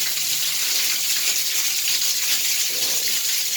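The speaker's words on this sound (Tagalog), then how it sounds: "Malakas ang tubig." Strong, steady rush of water pouring continuously from a shower, loud and close, like a powerful spray with no pauses.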